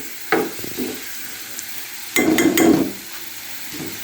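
Food browning in a pan for a Punjabi-style dal tadka gives a close sizzling fry with stirring scrapes, swelling into a louder crackling burst midway before settling back to a low hiss.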